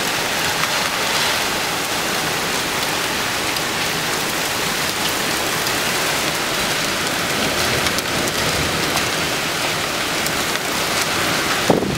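Steady heavy rain pours down through a summer thunderstorm in Winnipeg, a dense continuous wash of drops on surfaces with no voices, holding level for the whole stretch.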